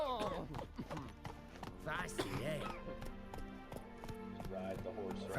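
A horse gallops in a video game with rapid, rhythmic clip-clop hoofbeats throughout. Excited voices talk loudly over it.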